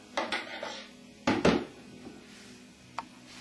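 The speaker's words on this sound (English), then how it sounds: "I stir it around, get a nice mixture." A spoon clinks and scrapes against a bowl of oatmeal in a few short bursts, with quieter pauses between the strokes.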